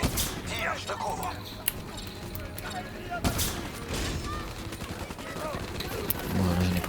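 Gunfire in the Call of Duty Black Ops 3 video game, with rapid bursts and scattered shots layered over a dense mix of game effects and music, while a French voice talks over the action.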